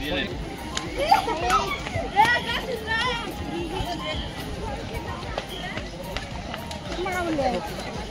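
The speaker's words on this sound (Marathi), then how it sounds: "गर्दी खूपच वाढू राहिली" A crowd bustles at the Bhivtas waterfall festival, with steady, overlapping chatter, shuffling footsteps and nearby voices forming a busy outdoor hubbub.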